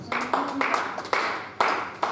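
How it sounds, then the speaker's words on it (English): A church congregation claps in steady unison, a regular beat of sharp hand claps roughly every half second, with sustained voices or music behind. "Clap your hands and celebrate it, Jesus."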